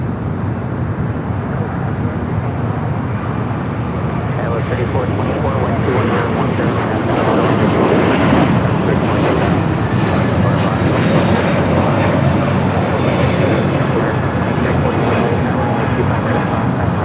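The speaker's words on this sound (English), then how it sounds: "Delta A321 in Neo taking off." Delta Airbus A321neo jet takes off at LAX, its engines a loud, continuous broadband roar that swells slightly midway and holds steady.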